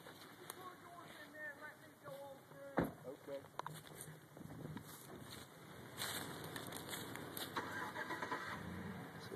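Kawasaki Mule four-seater utility vehicle engine on rural land for sale near Asheville: the engine starts with a sharp catch and settles into a low, steady idle, with people talking over it.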